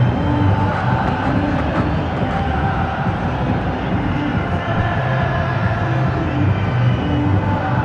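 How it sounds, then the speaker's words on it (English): Large, vocal cricket crowd at a World Cup match in Mohali, India, filling the air with a steady, loud roar of cheering that holds constant throughout with no pauses. "we'd always expect a very vocal crowd here in India"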